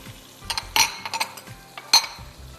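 Sliced mushrooms tumble into a pan of cooked chicken for fettuccine Alfredo, giving a few scattered clinks and scrapes of utensil on the pan and two sharper metallic knocks, close and moderately loud, with no talking.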